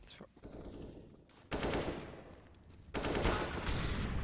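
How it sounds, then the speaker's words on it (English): Gunfire in a Counter-Strike match at an ESL Australia & NZ Championship game, bursts of rapid shots in two loud surges, busy and close. "Another good shot from Affinity."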